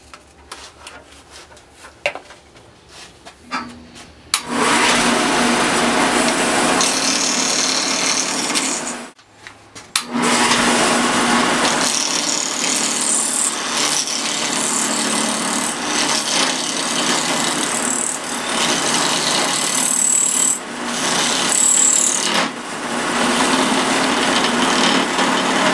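A wood lathe roughs out a scrap-wood bracelet blank mounted on a faceplate, partly cut from floorboard: a loud, steady whirring drone with rough cutting noise that drops out briefly midway, then resumes and runs continuously, close up.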